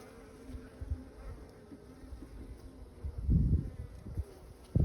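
Bees buzz around a beehive frame during a hive inspection, a low steady hum that swells louder for a moment near the end, with no talk.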